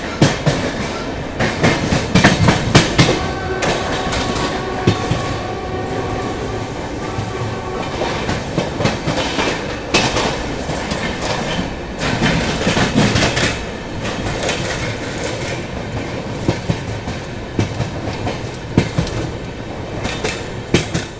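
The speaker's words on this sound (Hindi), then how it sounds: "साहिबाबाद के पास आवाज़ आई पूर्वा एक्सप्रेस के पीछे से तेज़ी से आते हुए" An express train overtakes at speed close by near Sahibabad, with loud, continuous clickety-clack of wheels on rails, rattling and roaring steadily for the whole stretch.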